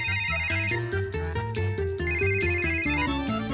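A telephone rings with a melodic electronic ringtone, a loud repeating pattern of tones filling the whole stretch, with no talking over it.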